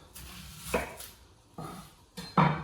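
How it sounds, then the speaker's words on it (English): A knife cuts both ends off an onion on a cutting board, three or four soft separate chops with faint scraping between, quiet and close. "so with our onion, cutting both ends off"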